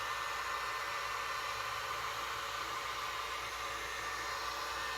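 A heat tool blows on resin art with mica powders and pigment paste on a cradle board, a steady, even airy rush that holds at one level throughout with no talking.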